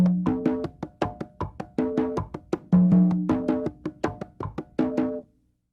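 Congas play a tumbao-style pattern in 3-2 clave: steady, close hand strikes with ringing open tones and deeper booming notes recurring in a repeating cycle, solo without voices.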